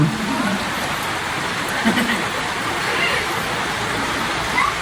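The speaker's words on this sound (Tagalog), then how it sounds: "Grabe, simula pagdating natin dito, walang tigil yung ulan." Steady heavy rain falls during a typhoon, a continuous broadband hiss that stays loud and even throughout, with faint voices murmuring low underneath.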